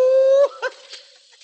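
A man imitates a dog with his voice, giving one drawn-out bark-like yelp followed by a couple of short, quieter yips, close and unaccompanied.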